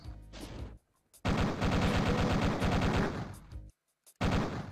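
Chain gun firing in FRAGPORT, a Wolfenstein-style mod set in a military bunker: loud rapid bursts of rattling automatic fire, one short burst then a sustained few-second stream, cut off by silence and resuming.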